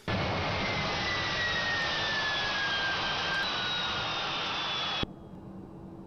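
Simulated Boeing 777-200ER jet engines in the GeoFS flight simulator whine steadily with a falling tone, then cut off abruptly near the end, leaving a quieter hum.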